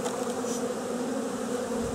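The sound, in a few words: honeybees buzzing during package installation with queen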